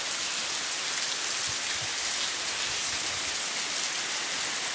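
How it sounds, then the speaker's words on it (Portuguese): Heavy rain pours steadily on a rural smallholding in Machadinho do Oeste, Rondônia, in the early evening, a dense unbroken hiss that stays loud and even throughout with no voices. "Bastante chuva, ó."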